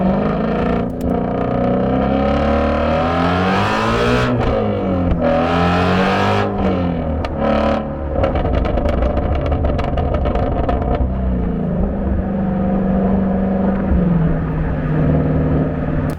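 Ford Shelby GT350 sports car engine pulling hard while driving, a loud, continuous throaty roar with rising and falling revs through shifts, heard close from inside the car.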